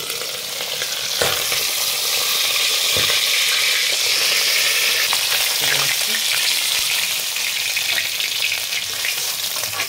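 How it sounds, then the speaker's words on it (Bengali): Tangra fish frying in turmeric-tinged oil, a loud, dense, continuous sizzle close up, with a couple of sharp clicks from a spatula or lid and no talking. "এবারে মাছগুলো ভাজবো আমি"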